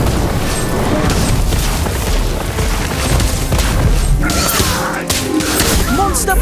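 An Incendio fire spell bursts in the mobile wizarding game Harry Potter: Magic Awakened, a dense, loud, sustained roaring blast with crackling crash textures and a few bright magical chimes near the end.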